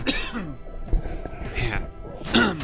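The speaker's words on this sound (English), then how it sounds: "Sorry, I really have to cough." A man still recovering from illness coughs and clears his throat several times in rough, harsh bursts, close to the microphone, with a short pause between fits.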